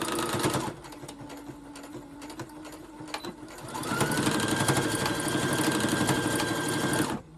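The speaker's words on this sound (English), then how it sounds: "I'm just going to sew these two ends together just so that they stay together." Sewing machine stitching the two fabric ends of a scrunchie together, a steady close mechanical whirr that runs nearly throughout, pausing briefly and then speeding up for a few seconds before stopping.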